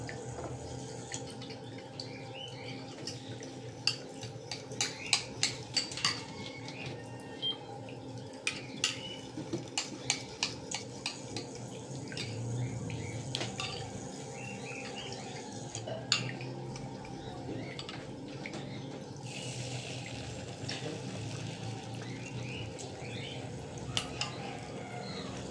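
Metal cookware clattering as a wok is lifted off a noisy cooking stove, with scattered sharp clanks and knocks over a low kitchen hum and faint dripping water.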